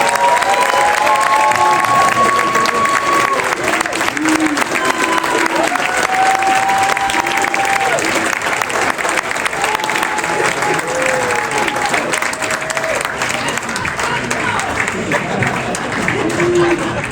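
Sustained loud applause and cheering fill an evening Connecticut Soccer Hall of Fame induction hall as a crowd welcomes an inductee, dense clapping with some whoops and shouts throughout.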